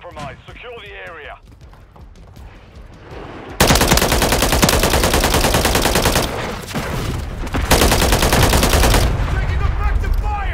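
Heavy automatic gunfire in a Call of Duty game: dense, loud, sustained bursts of rapid shots with short breaks, preceded by chirpy radio-style chatter and game voices.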